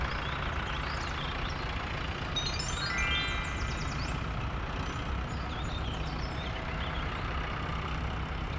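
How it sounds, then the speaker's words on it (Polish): An orange dump truck in a children's cartoon rumbles steadily at a constant level, with a few short, high chirping sounds on top near the middle. "Pomarańczowa wywrotka."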